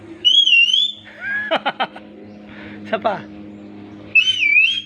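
A child whistles loudly in a few high, sliding notes, stops while adults talk and bird-like chirps break in, then whistles again near the end.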